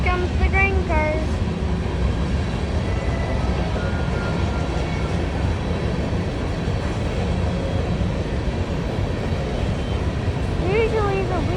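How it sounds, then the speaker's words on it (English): A Wheeling and Lake Erie freight train rolls past with grain cars, a loud continuous rumble and clatter of wheels close by, with brief squealing tones at the start and end. "Here comes the grain cars."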